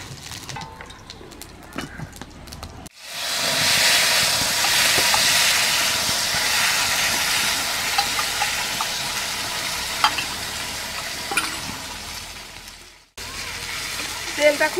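Whole cumin, dried red chili and bay leaves hit very hot oil with a sudden loud sizzle that hisses steadily with small crackles, then cuts off as stirring sounds and a voice return.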